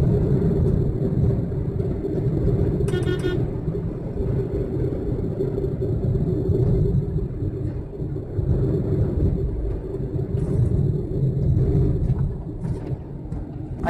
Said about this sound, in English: As you can see, I'm driving now. There is some disturbance in the road